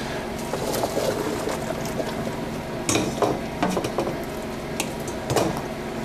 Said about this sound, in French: Je vais couler mes pâtes.